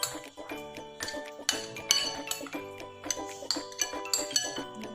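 A spoon stirs a bread pola mixture of milk-soaked bread in a bowl, clinking brightly against the sides. The scraping taps come in a quick, irregular rhythm, close and clear, with no talking.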